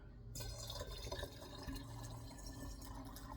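Water pours in a steady stream into a container while hummingbird feeder nectar is being mixed, a continuous close splashing fill sound with no voices.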